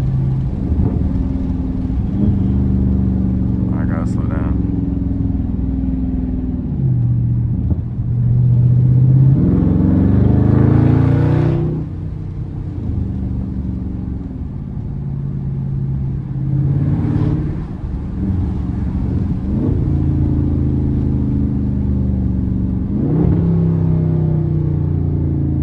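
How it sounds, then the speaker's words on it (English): The 392 V8 of a Dodge Charger Scat Pack revs hard while drifting, its loud, throaty roar climbing and dropping in repeated surges over about twenty-five seconds. "my car sounds too crazy"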